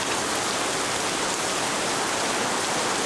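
Heavy pouring rain, a steady dense hiss of drops beating on surfaces, loud and unbroken with no talking.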